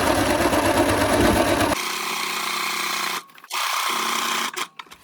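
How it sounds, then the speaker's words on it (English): A sewing machine stitching around a zippered pillow cover, a loud fast mechanical whirr that changes pitch partway, with short pauses and restarts. "Back stitch, and then go ahead and sew all around."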